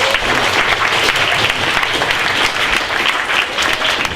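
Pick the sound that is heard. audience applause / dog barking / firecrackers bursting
audience applause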